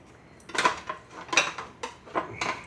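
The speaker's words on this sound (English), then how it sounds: "Now I've got some ancient silverware here." Old silverware and small butter dishes clink and clatter as they are handled and set down, several distinct close metallic and ceramic knocks in an irregular rhythm.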